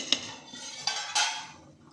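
Cooked avarekai bassaru being tipped from a pot into a bowl, with a few metallic clinks and scrapes of the vessel rim and ladle followed by soft pouring sounds, close up.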